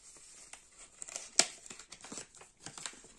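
Packaging around gold-colored craft scissors is opened, with soft crinkling and tearing of plastic or paper in quick bursts, one sharper rip in the middle, fairly quiet and close with no voices.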